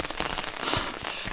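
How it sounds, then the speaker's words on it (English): Rain patters densely on a tent while backpacking in the Canadian Rockies, a close, continuous crackling of drops striking fabric with no voices. "Yay, rain."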